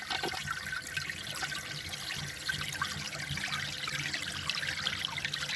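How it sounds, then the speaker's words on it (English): A clogged toilet being flushed, giving a steady rush and trickle of water close by that keeps running without a clear drain-away, with no voices. "Are you going to flush this toilet?"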